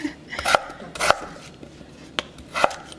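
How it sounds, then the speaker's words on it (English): A knife chops quickly through food for potato cakes on a cutting board, giving a few sharp, close knocks at uneven intervals with quieter rustling between them. "I give it a quick chop."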